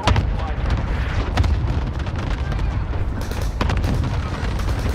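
Cluster strike explosions in Call of Duty: Warzone, a dense, continuous rumble of booming blasts and bursts layered together, loud and sustained, with a couple of sharper hits standing out.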